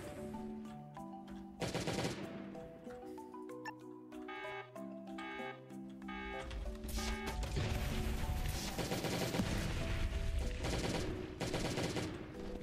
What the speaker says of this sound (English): the grenade launcher is about to break